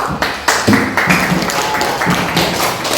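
A small classroom group claps briefly and unevenly, with scattered hand slaps and taps of varying strength, close by and without talk.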